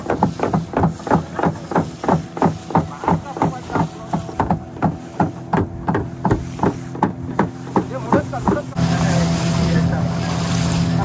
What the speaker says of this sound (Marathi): जाळ्याच्या आतमध्ये आपण बोट चालवतो